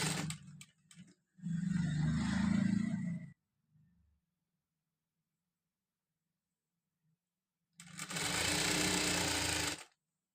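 A sewing machine stitches a double-folded side slit on a chudidar top in two loud, close bursts, the first about two seconds and the second near the end, with quiet between.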